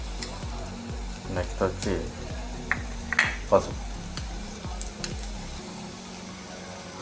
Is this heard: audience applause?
no